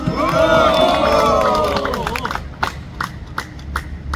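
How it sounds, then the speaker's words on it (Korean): Crowd at an outdoor rally protesting a politician, responding with loud cheering and a dense wash of applause that peaks early, then thins into scattered claps and shouts. "여러분 동의하시면 큰 박수 한번 해주시기 바랍니다."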